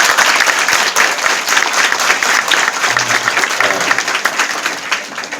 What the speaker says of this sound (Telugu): మీ అందరి తరఫున, నా తరఫున మీ గట్టిగా చప్పట్లతో